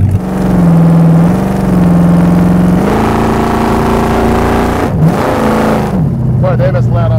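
A chopped and dropped custom 1929 Ford Model A hot rod engine revs loudly up close, its deep droning note rising and falling through several throttle blips, with someone talking over it near the end.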